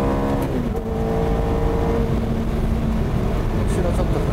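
A Ferrari F430 accelerates hard from high speed, with a loud, sustained engine drone and rising tones heard from on board. The engine roar fills the whole stretch.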